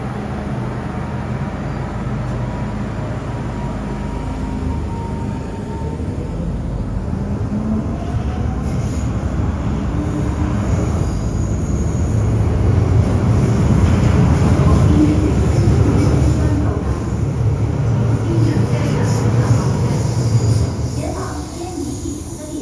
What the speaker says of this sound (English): The train to Kennedy Town is arriving.